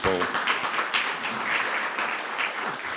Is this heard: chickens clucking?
no